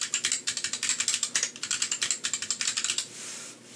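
Rapid keystrokes on a computer keyboard enter a short password, a quick run of crisp, close clicks that stops after about three seconds.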